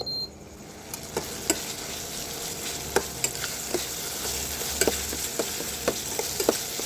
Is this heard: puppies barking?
no